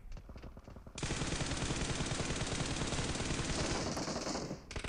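Sustained automatic gunfire in PUBG Mobile, a loud continuous burst of rapid shots starting after a quieter first second and running nearly to the end, with no talk.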